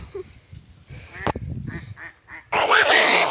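Ducks quack at an outdoor pond, a few short calls in a row followed by a louder burst of quacking, heard close alongside scattered background voices.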